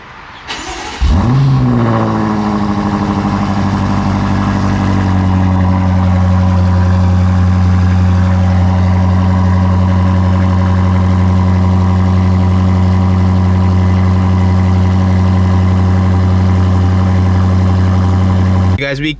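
A stock BMW M5 Competition fires up by remote start in comfort mode, a brief cranking whir swelling into a loud, steady, deep idle that hums on evenly for the rest of the stretch.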